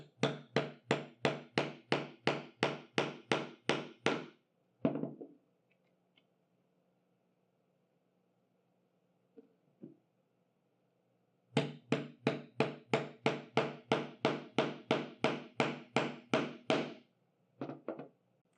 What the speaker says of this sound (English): I'm just going to hammer it into the wood.